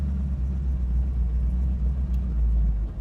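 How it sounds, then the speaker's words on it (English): 1967 Chevrolet Camaro convertible cruising on the freeway, a steady low engine rumble and road roar close and constant throughout. "if you're looking for a Camaro that's got some horsepower, this one does. It goes down the freeway good"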